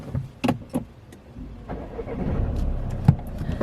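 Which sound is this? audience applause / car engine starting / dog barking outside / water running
car engine starting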